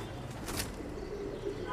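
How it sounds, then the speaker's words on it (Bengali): A Pakistani Teddy pigeon of Salara bloodline gives a brief, soft coo against a hissing, noisy background. "এটা ডাইরেক্ট টেডি কবুতর"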